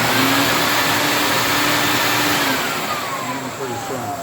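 A household vacuum cleaner with a dirt-collecting sack runs loud and steady at close range, its motor whine drifting slightly lower toward the end, with no talking.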